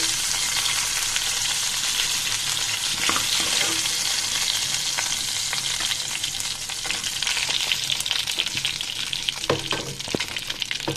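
Ginger, garlic and onion fry in hot oil in a pan after meat has been browned, giving a steady, close sizzle with occasional stirring clicks and no talking.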